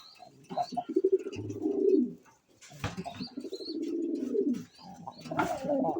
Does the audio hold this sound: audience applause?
no